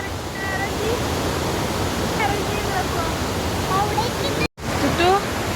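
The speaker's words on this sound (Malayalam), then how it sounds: "അപ്പോൾ നമ്മൾ വാഴച്ചാൽ വെള്ളത്തിൻ്റെ അടുത്ത് എത്തിയിരിക്കുകയാണ്." Water at Vazhachal waterfall rushes loudly and steadily nearby, a constant roar with a short dropout near the end, while voices talk faintly over it.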